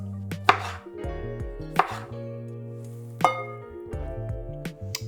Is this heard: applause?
no